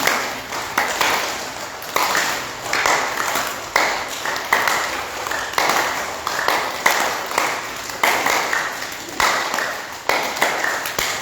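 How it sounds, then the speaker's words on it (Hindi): A group at an obesity and diabetes wellness camp in Thane claps loudly in a steady, even rhythm, each sharp burst of hands landing close together and repeating for several seconds. "जोर से ताली बजनी चाहिए"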